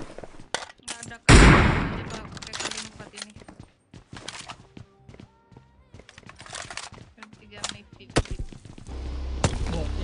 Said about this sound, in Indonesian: Yang nembakin aku dari mana-mana sih?